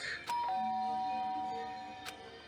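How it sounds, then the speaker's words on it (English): A doorbell chimes in Danganronpa 2, a bright two-tone ding-dong with a sharp strike, ringing out alone against a soft sustained game background. "The doorbell. Someone here?"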